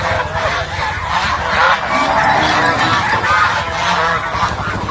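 Dense, loud honking from a crowd of domestic geese fills a goose village, a constant overlapping chorus close at hand with no break.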